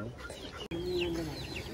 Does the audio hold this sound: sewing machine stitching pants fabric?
no